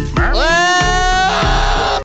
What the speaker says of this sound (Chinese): 这是小羊的叫声，但长大后，